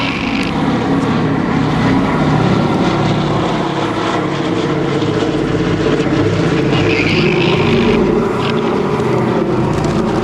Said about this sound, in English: There's a B-17, folks, with a bomb bay right open over us right now.